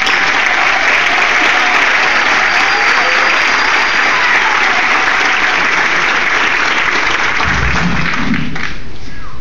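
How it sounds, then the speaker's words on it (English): A crowd applauds graduates at a CCM pinning ceremony in May 2012, giving loud, dense, continuous clapping throughout that thins out at the very end, with no talk over it. "lead us in another round of applause and congratulate the graduates"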